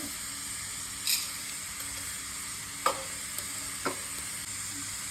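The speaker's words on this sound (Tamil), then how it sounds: "அதே கரண்டியில் வந்து 3 ஸ்பூன் மிளகு போட்டுக்கிறேன்" Whole black pepper and cumin seeds sizzle and crackle steadily in a hot pan for a mutton gravy, with a few sharp clinks of a spoon against the pan. No one speaks.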